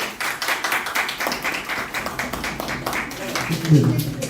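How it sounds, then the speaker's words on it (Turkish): Scattered clapping from a small crowd at the opening of a painting exhibition, uneven and fairly light, with voices talking over it. "Evet bir alkış"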